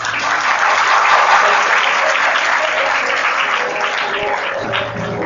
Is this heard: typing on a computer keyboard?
no